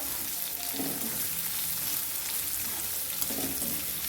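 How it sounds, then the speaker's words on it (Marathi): Chopped onion sautéing in a hot pan, a steady close sizzle with faint stirring scrapes throughout, no voices. "कांदा पण छान परतून द्यायचा आहे"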